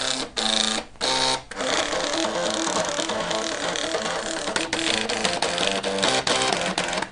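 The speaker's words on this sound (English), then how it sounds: "The printer's from 1985." A 1985 Epson LQ500 dot matrix printer prints, giving a loud, steady mechanical buzz and ratcheting rattle with a few sharp drops and restarts near the beginning, then continuous grinding chatter.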